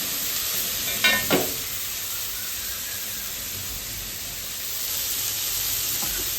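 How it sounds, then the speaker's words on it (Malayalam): Onion, garlic, ginger, green chilli and curry leaves sautéing in a pan: a steady, hissing sizzle throughout, with a couple of brief scrapes of a spoon stirring early on, close and even, no talk. "നമ്മൾ സവാള വെളുത്തുള്ളി ഇഞ്ചി പച്ചമുളക് കരിവേപ്പില ഇത്ര സാധനം ഇട്ടിട്ടുണ്ട് കേട്ടോ ഈ സാധനം നന്നായിട്ട് വഴണ്ടോ"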